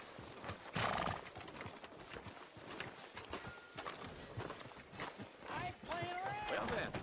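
Horse hooves clop along at a walking pace in Red Dead Redemption 2 while a horse whinnies near the end, with people talking over the sounds.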